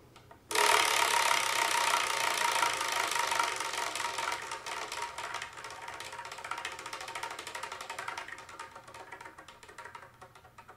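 A prize wheel spun by hand starts with an abrupt burst of rapid ticking clatter, then its clicks gradually slow and soften over about ten seconds as it winds down, heard alone.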